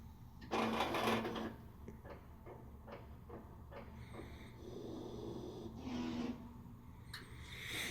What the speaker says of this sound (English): Now you might hear it do a brief clean cycle just to make sure that everything's up and running.